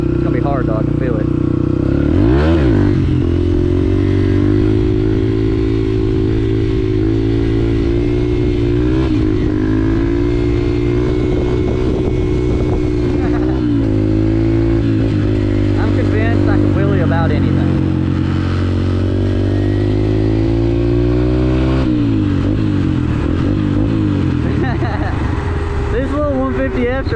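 A trail-style dirt bike engine held loud and close, revving steadily in third gear through a wheelie with rising and falling pitch and a mechanical clatter, continuous throughout.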